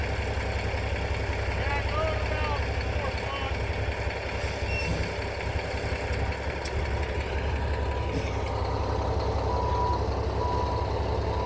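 Concrete truck on a garage-wall concrete pour, its engine idling steadily with reversing beeps and air-brake hiss, close and continuous throughout, with people talking faintly in the background.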